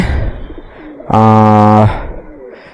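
A pigeon in a loft gives one loud, close, resonant coo lasting under a second, set against soft background murmur.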